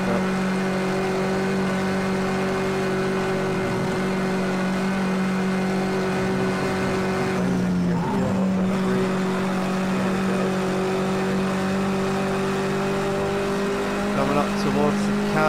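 A touring race car in Project Cars 2 at the Nürburgring holds a steady loud engine drone with a brief dip in pitch midway, while someone talks over it.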